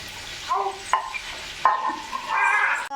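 Green chillies, curry leaves, cinnamon and cloves sizzling in hot oil with onions for a chicken dum biryani, a close crackling fry punctuated by a few stirring scrapes, no voices.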